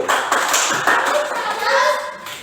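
A classroom of students performs a "tepuk salam" clap for a student group, rhythmic patterned hand claps mixed with children's chanting voices, loud and close.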